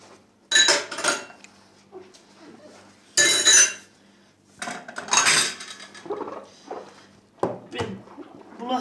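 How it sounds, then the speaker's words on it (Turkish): Dishes being washed by hand in a home kitchen sink, with repeated loud clatters of pots, plates and cutlery in irregular bursts and quieter gaps between, while someone talks over parts of it. "Bulaşık yıkamasını ben seviyorum arkadaşlar"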